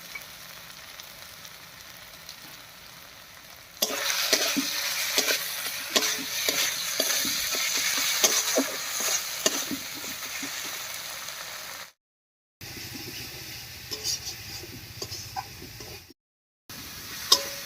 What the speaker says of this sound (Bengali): মশলাগুলো দিয়ে নাড়িয়ে নিয়েছি,